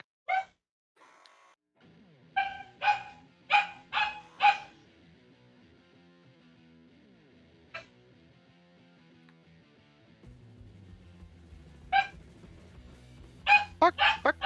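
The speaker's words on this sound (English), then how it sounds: "And the dog is barking." A dog barks in sharp, loud bursts, first in a cluster, then a single bark, then another quick run near the end, over a quiet low hum.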